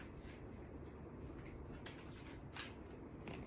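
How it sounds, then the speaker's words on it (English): A deck of tarot cards being shuffled up close, with soft repeated riffling and sliding bursts at a steady pace and no talking. "I did get too many cards though, so I'm going to keep shuffling."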